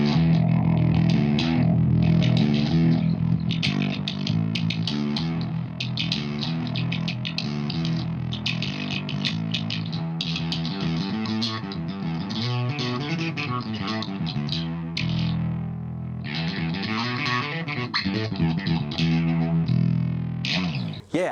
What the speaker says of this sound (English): I like the distortion of the Marshall, but as you can hear, there is the low end missing.